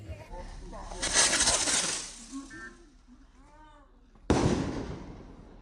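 Circle bleed firework cake set off outdoors: a loud hissing burst of firing, a crackling tail, then a second sharp blast with a decaying hiss, with brief voices in between.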